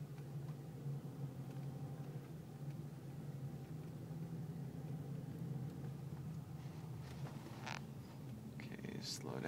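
A car engine hums low and steady from inside the moving vehicle as an eight-year-old drives for the first time, with people talking over the continuous rumble.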